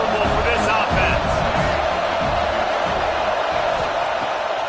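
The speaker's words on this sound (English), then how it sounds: "how nice is it to have the home crowd going absolutely bananas?" A home crowd roars and cheers loudly throughout at a college football game, a dense sustained wall of noise with a commentator talking over it.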